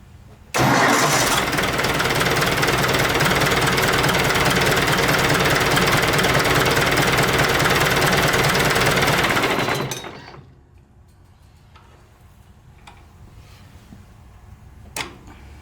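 A Ford 172 diesel engine catches and runs at a loud, steady clatter for about nine seconds, then dies away, leaving a faint background with a few small clicks and knocks.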